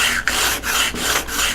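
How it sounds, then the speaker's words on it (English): A steel cabinet scraper is pushed back and forth on a diamond sharpening plate, giving five rhythmic rasping strokes with short pauses between, close and fairly loud. "For scrapers, I recommend a diamond plate"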